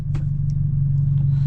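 A tuned BMW F30 accelerates, its engine giving a loud, steady low rumble heard from inside the car throughout a brief moment.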